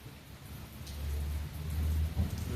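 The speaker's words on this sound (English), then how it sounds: "the rain is coming down even harder now." Heavy rain falling on a rainy night outdoors, a dense steady wash of drops with low rumbling swells that build louder toward the end, close and without speech.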